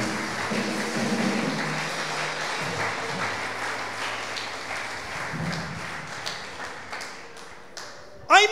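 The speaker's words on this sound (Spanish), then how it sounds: "Démosle un aplauso al Señor." Church congregation applauding during a Spanish-language sermon, a steady wash of clapping with talk running underneath and a sharp louder burst at the very end.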